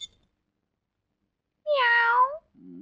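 A single drawn-out cat meow rings out clearly after a stretch of near silence, from a scene in the Hindi film Jamai Raja; a low murmuring sound follows it.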